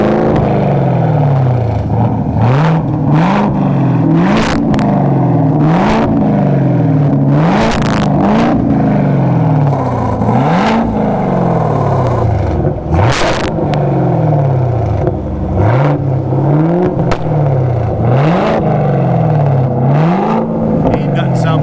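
A Chevrolet Camaro ZL1's engine revs repeatedly in loud, close, rising and falling bursts, with people talking over it.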